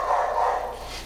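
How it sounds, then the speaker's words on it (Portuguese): A dog gives a single loud, close bark, a short burst with no talking around it. "Cachorro!"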